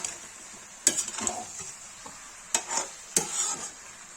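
Cauliflower and potato sabzi with sabzi masala is stirred and roasted in a pan. A soft, continuous sizzle is broken by three sharp spoon scrapes against the metal, with quieter shuffling between them.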